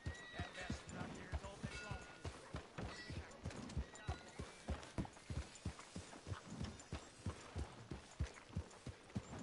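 Horse hooves clip-clop at a steady walking rhythm in Red Dead Redemption 2, close and distinct, with a faint voice in the background.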